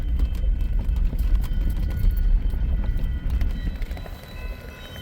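A northbound BNSF freight train on the Sioux City Sub, led by an SD70MAC with foreign power, rumbles loudly and steadily nearby with a dense low roar and rhythmic clatter of wheels over rail joints.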